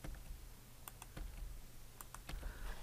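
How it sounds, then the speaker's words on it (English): Quiet computer keyboard and mouse clicks in a desk setting: a handful of separate sharp taps and clicks spaced irregularly over a low steady hum, with no talking. "anything that's green, I'm gonna click on it and then hit delete on my keyboard"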